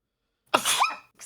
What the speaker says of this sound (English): they heard the cute variant of your sneeze